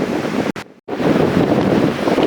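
Strong gusting wind in a March snowstorm at Holland Cove, gusts reaching 60 to 70 km/h, roars loudly and continuously against the microphone, briefly dropping out for a moment before surging back.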